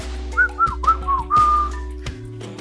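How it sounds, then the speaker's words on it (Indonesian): A person whistles a short lilting tune, a string of clear rising and falling notes that ends on a longer held tone, close and loud over a low steady hum. "Wiro Sableng masuk ke dalam seenaknya dan sambil bersiul-siul."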